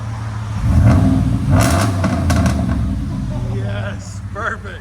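A RAM truck's 5.7L HEMI V8, fitted with 5-inch exhaust tips and its resonators kept on, rumbles deeply and swells in a couple of revs, loud and close, while people talk over it.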